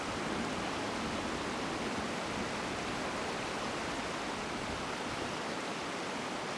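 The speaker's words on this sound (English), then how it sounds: "They want to cross this muddy flow of water" Muddy river water flows in a steady, even rush that holds unbroken throughout, fairly faint and with no voices over it.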